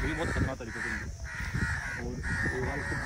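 Crows caw loudly and close by, harsh repeated calls coming in quick succession over about three seconds.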